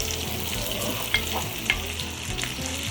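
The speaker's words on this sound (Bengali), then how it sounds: "এবারে আমি এটার উপর চিংড়ি দিয়ে দিব। এখন চিংড়িগুলো ভেজে নিতে হবে।" Shrimp fry in garlic butter, making a steady, moderately loud sizzle with a couple of brief sharp pops and a low stove hum beneath.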